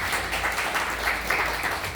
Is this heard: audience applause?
yes